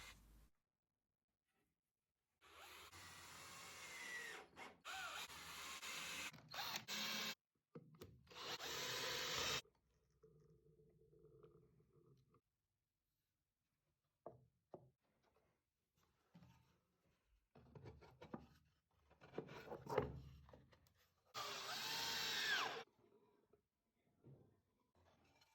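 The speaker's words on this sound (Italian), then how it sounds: "Assemblo le cornici dello stampo utilizzando silicone e viti." Workshop sounds of assembling mould frames with silicone and screws, bursts of power-tool whirring and rubbing, scraping and wooden clatter separated by silences, close and fairly loud, with no speech.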